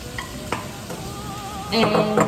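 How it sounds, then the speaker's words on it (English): Cannellini beans tumble into a pan of frying carrots and celery, giving a steady close sizzle, then a brighter burst of clatter and spatter as they land and get stirred. "Our next stage now is to add our cannellini beans to the carrots and"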